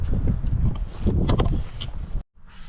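Strong outdoor wind buffets the microphone with a constant low, gusty rumble. It cuts out briefly near the end, then returns more faintly.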